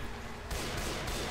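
Tier 2 sniper rifle shots in the video game Left 4 Dead 2, a loud sharp report cutting in midway and then sustained gunfire over a dense, noisy game backdrop.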